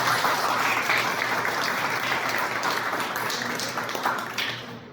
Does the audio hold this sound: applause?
yes